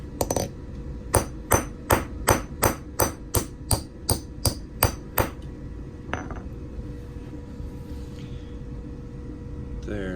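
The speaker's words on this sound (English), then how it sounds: "Set the top on, put the punch in, and then hit it with a hammer." A hammer strikes a center punch resting on a quarter coin during coin-ring making, giving about eleven sharp, evenly spaced metallic blows in quick succession, close and loud, before the strikes stop.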